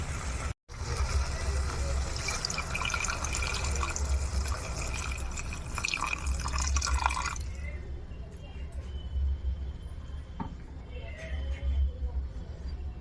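Water pours into a cooking pot for curry in a steady, close splashing fill that runs for several seconds, then gives way to quieter clinks and drips.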